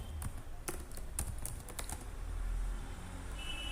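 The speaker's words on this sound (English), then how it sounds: "Let me type Nginx" Computer keyboard typing on a desktop setup, a quick burst of close key clicks in the first two seconds, then a faint hum of room noise with no talking.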